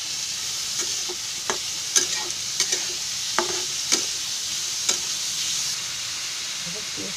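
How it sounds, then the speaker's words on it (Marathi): Chopped onion frying with a pinch of salt in a pan, a soft steady sizzle under scattered clinks and scrapes of a spoon stirring, close and moderately loud. "हा कांदा भाजतोय ना"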